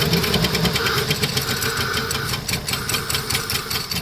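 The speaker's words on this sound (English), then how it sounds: "sticking a 2J in the old Jeep. Let's see if this thing will fire up here." A Toyota 2JZ engine swapped into an old Jeep Cherokee runs steadily with a close, loud, rough mechanical rumble, idling after start-up on a makeshift fuel setup. A cold engine sounds continuously with no talk over it.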